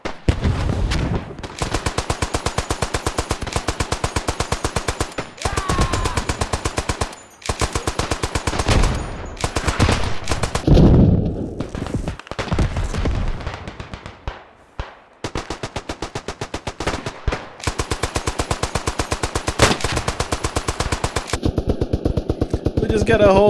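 Machine-gun fire in the trench warfare game Beyond The Wire, long sustained automatic bursts rattling loud and close with short breaks between them, and a voice heard in places.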